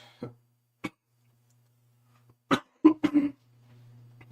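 A few short coughs and throat sounds break an otherwise quiet background, with a brief cluster of harsher bursts near the end.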